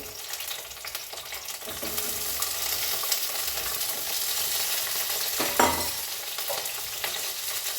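Broken green chilies frying in hot oil for a tomato and coriander chutney, a bright continuous sizzle with a few spatula scrapes and clinks against the pan, no speech.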